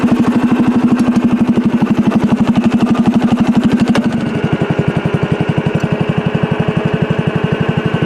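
A 1975 John Deere 300 garden tractor with a Kohler engine runs steadily close by, its rapid even firing pulses thumping throughout with a slight shift in pitch about halfway through.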